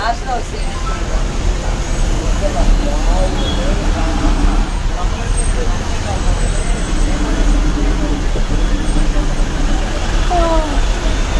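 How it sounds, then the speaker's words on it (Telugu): Busy road traffic in Vijayawada with buses and cars, a continuous loud roadway roar with passing engines and scattered horn tones, voices chattering beneath it. "చూద్దాం, ట్రాఫిక్ మీద చూపించుకుందాం."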